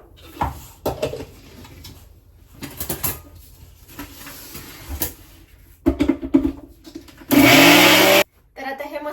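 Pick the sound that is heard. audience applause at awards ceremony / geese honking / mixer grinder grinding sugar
mixer grinder grinding sugar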